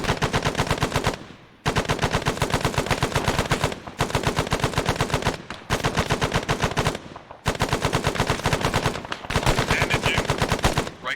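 Suppressing fire during a video game squad training session comes as loud, close machine-gun bursts, each about two seconds long, with sustained rapid rhythmic shots separated by brief pauses.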